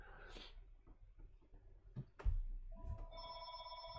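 A telephone rings with a steady electronic bell tone that sets in near the end, clear and sustained after a few soft thumps and faint rustling.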